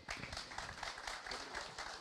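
An audience gives a round of applause for a farmer at a talk on soil recovery, a dense, steady spread of many hands clapping that carries on loudly without pause.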